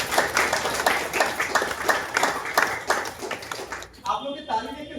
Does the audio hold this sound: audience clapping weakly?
yes